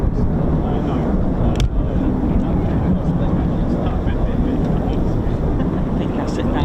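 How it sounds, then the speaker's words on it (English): Eurofighter Typhoon FGR4 jet roaring steadily at a distance, a continuous broad rumble with wind buffeting the microphone throughout, no other sounds standing out. "First 6 Typhoons of the day."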